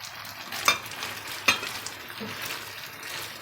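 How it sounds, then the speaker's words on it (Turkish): Julienned peppers and chicken sizzle steadily in a hot pan, with two sharp clinks of a utensil against the pan as they are stirred. "Biberlerimi ve tavuklarımı birlikte soteliyorum."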